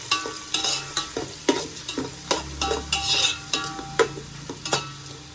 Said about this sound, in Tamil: நல்லா ஃப்ரை ஆகணும்.